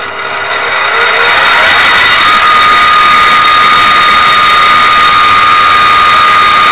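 Benchtop X2 mini mill, converted to belt drive, running on its high speed range: a steady, loud high-pitched motor whine with belt and pulley hum that spins up in the first second, then holds constant.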